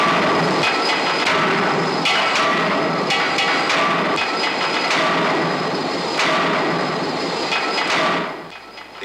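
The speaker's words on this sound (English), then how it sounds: "The impact of the upper die causes the metal to flow in such a way that its grain follows the shape of the die." A steel billet is drop forged between shaped dies on an anvil, with heavy metallic blows landing in a steady series about once a second over a continuous loud industrial din.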